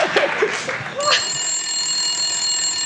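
A comedic telephone ring sound effect comes in abruptly after a stretch of voices and laughter, then holds as a steady, bright, sustained ringing tone until the end, loud and close.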